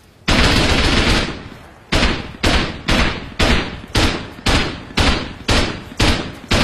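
M4 rifle fire in the survival game Rust during a rooftop raid: one long sustained burst, then about seven evenly spaced loud blasts in a steady rhythm, close and forceful.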